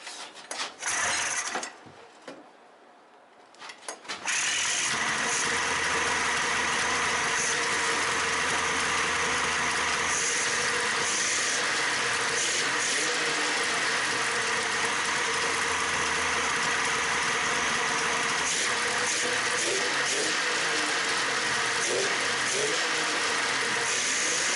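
A Polaris XLT RMK snowmobile engine cranks briefly, then catches and settles into a steady, close, continuous idle that runs for about twenty seconds, with no talking.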